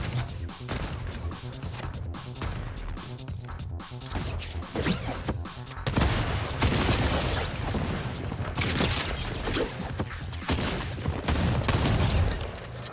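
Gunfire in Fortnite, repeated rapid bursts and cracks mixed with impacts and mechanical clatter, continuous and loud, intensifying in the second half with no speech over it.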